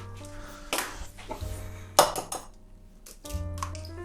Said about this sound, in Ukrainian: Візьмемо яйце і вбиваємо його в миску.